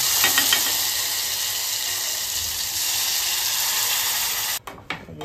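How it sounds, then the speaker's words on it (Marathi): Loud, steady sizzling and hissing of chutney hitting hot tempering oil, continuous for several seconds before cutting off abruptly near the end. "गाईज इथे आपली चटणी जाते आता फोडणीला"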